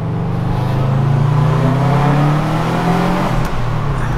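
A roommate's new car accelerates hard in second gear, its engine note rising steadily and loud from close inside the cabin, with no talking over it.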